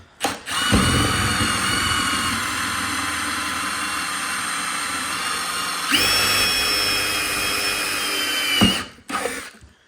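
A power drill runs continuously while boring holes for a CCTV camera install. The whine is loud and close, with a shift in pitch partway through, then the drill stops with a few short bursts at the end.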